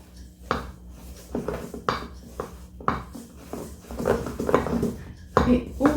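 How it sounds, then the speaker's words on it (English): A spoon beats dark sticky gingerbread batter in a bowl, giving a series of irregular knocks and scrapes against the bowl at close range, a few strokes a second, with no voice. "I'm going to beat this well."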